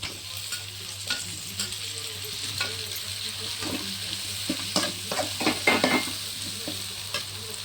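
One large tomato sizzles steadily in oil for a chicken gravy on a high flame, with stirring scrapes and soft clinks building near the middle, close and continuous with no talk.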